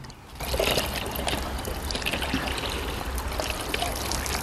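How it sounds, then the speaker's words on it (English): Water poured into the reservoir of a water alarm clock: a continuous trickling stream that starts after a brief pause and runs steadily, close up, without talk. "what I'm going to do is first of all fill up my reservoir here"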